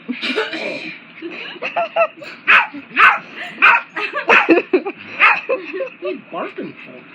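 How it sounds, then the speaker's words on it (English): A dog playing with a cat barks and yips in a series of sharp, close bursts, mixed with whimpers and human voices talking around it. "What are you barking for?"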